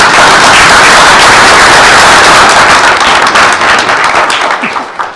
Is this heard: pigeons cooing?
no